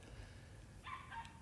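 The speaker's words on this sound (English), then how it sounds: "I apologize for the dogs." Dogs barking from across the street, heard through open windows as a couple of faint, distant yips and barks near the end over a quiet room hum.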